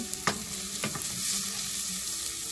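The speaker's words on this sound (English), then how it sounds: "we are going to add the ginger garlic paste. After a little while of sauteing" Ginger garlic paste sautéing in a pan with translucent onions for channa masala: continuous close sizzle with two brief spatula scrapes and stirs near the start, no talking.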